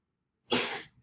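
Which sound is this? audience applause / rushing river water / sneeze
sneeze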